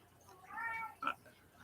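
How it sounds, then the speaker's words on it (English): A large domestic cat meows indoors, a faint drawn-out mew followed by a brief second one, heard alone against quiet room tone. "Meow. Here, kitty, kitty."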